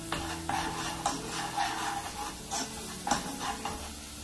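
Onion and garlic stirred and frying in a pan while preparing shrimp, with steady sizzling under regular scraping strokes of a utensil against the pan, close and fairly quiet.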